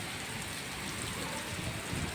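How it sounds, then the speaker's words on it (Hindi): Heavy rain with hail pouring hard in strong wind, a dense, constant hiss and patter of drops hitting surfaces with no break or voices. "ओले की बारिश है, आंधी और बारिश बहुत तेज़ है"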